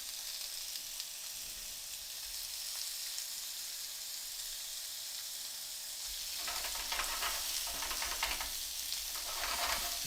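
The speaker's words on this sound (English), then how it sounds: "Shrimp sizzling away." Shrimp frying in a pan with adobo seasoning, a steady bright sizzle throughout that swells louder with crackling bursts in the last few seconds.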